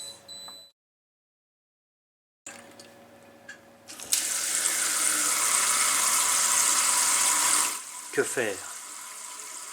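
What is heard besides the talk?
water running from a tap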